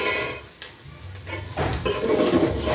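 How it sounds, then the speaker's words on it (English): A spoon stirs washed, cut sardines (omena) in a metal sufuria pot, giving a steady run of scraping and clinking against the pot that grows louder and busier toward the end, close by with no talk. "I hope that my spoon is not making a lot of noise."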